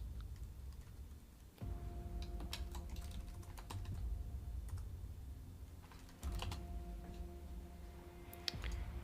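Steady typing on a computer keyboard during programming, quiet close-up key clicks in quick irregular bursts with occasional louder taps, and no talking.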